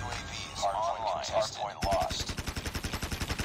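Rapid bursts of automatic gunfire from a first-person shooter video game, shot through a wall, ring out loud and close in the second half after a stretch of game sounds and speech.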